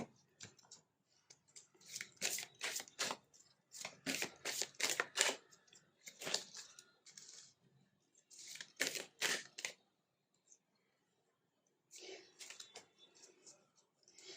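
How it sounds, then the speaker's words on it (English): Numerology cards being shuffled and drawn by hand: close, quiet bursts of riffling and flicking with short pauses between them and a longer gap near the end. "I am also going to pick out some numerology cards for you."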